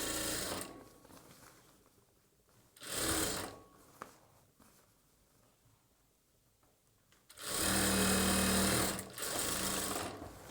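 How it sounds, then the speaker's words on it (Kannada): A sewing machine double stitches the bottom of a churidar, with short bursts of loud whirring stitching separated by quieter pauses, ending in a longer run of steady stitching close by. "ರಿವರ್ಸ್ ಮಾಡಿಕೊಂಡು ಡಬಲ್ ಸ್ಟಿಚ್ನ ಮಾಡ್ಕೊಳ್ಳಿ."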